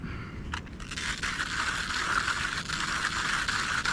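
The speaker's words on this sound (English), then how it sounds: "I've already dosed 18 grams of coffee into my grinder, and we're going to grind." Coffee beans crunch and grind in a hand grinder, 18 grams at a time, a continuous gritty, ratcheting churn close by that stays steady throughout, with no speech.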